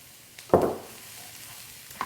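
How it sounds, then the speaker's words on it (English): Dry rice poured into a pan of hot onion and pepper juices gives a sudden sharp sizzle and clatter that fades quickly into a faint hiss, close and loud with no talk. "Now I'm going to throw all my rice in."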